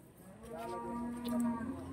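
A Limousin calf at a cattle market in Banyuwangi gives a single low, drawn-out moo that swells toward the end, heard fairly close against quiet background noise.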